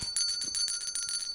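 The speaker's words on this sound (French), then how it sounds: "Mais arrête trop avec cette cloche." A small bell rung rapidly and insistently, producing a quick run of bright metallic dings at a steady, close, fairly loud rhythm, with no talking.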